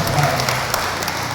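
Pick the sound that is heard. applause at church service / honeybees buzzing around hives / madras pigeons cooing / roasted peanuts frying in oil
applause at church service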